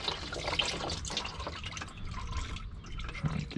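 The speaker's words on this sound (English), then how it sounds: "You can see some oil's dripping already." Quiet, irregular drips of engine oil falling from a 2016-2021 Honda Civic during an oil change and splattering close by, with soft background noise and no voices.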